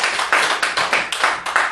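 A small group at a Korean Buddhist dharma talk claps in unison, sharp rhythmic bursts repeating about every third of a second, close and clear with no talk over it.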